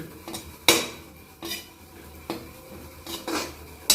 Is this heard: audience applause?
no